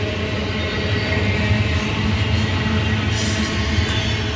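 A BNSF freight train rolls past at close range near Abbeville, a loud, steady roar of wheels and cars on the rails with no talk.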